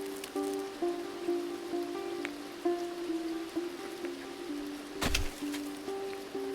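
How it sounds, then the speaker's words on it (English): Rain falling in a video game: a soft, steady hiss of rainfall runs throughout beneath gentle tonal game music, with a brief louder crackle midway. "Whoa, it's raining now."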